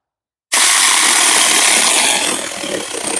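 A Dewalt battery-powered mini chainsaw cutting maple hardwood starts abruptly after a brief silence, giving a loud, steady, close whirring buzz that eases slightly toward the end.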